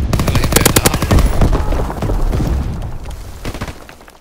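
Rapid machine gun bursts in Call of Duty WW2 rattle loud and close, a dense run of evenly spaced shots that gives way to rumbling, booming battle noise with scattered further reports.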